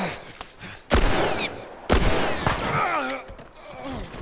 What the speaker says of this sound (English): No, fuck it, I use a gun